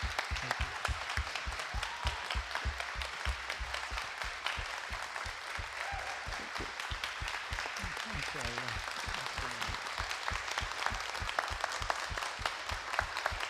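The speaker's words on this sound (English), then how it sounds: "thank you very much for your positive applause" An audience at a Green Party presidential candidates Q&A applauds in steady, dense clapping that carries on for over ten seconds, with a speaker's voice briefly heard over the applause.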